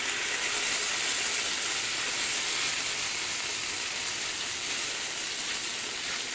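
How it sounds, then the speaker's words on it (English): Bacon sizzles in a pan right after being flipped, a continuous close hiss that holds steady throughout with no talking. "did you hear that sizzle?"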